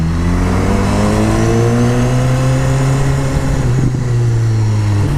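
BMW S1000R motorcycle engine revving loudly up through the gears, its rising whine dropping sharply at a quick-shifter change near the end and climbing again, close and continuous with no talk.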